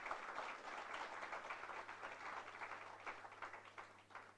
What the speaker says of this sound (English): Can we have a huge round of applause for extremely talented winners